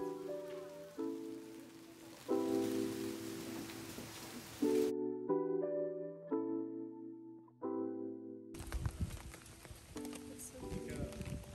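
Heavy rain falls on the mountain path at Fushimi Inari Taisha shrine in Kyoto, a steady broadband hiss that comes and goes beneath louder tonal music throughout.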